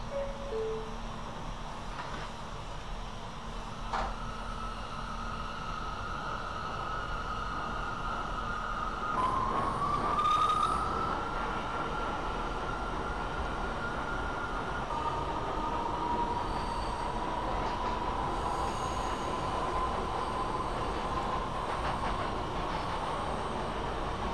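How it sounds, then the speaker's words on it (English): An R179 subway train on the New York A line runs in the OpenBVE simulator, a steady rumbling roll with rising motor whine and brief wheel squeals, close and continuous throughout. "This is a Queens-bound A express train."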